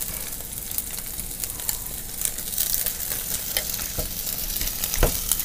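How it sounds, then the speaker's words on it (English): Pre-cooked rice fries in a hot pan, sizzling loudly and steadily while a utensil stirs and scrapes with intermittent clacks, close up and without talk. "Wow, that's sizzling. That is sizzling, man."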